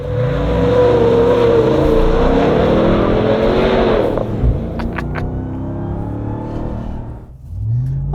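RAM TRX Final Edition pickup truck accelerating hard with stability control off, a loud, deep engine roar rising in pitch through the gears for about four seconds, then easing off to a lower rumble with a quieter lull before it picks up again.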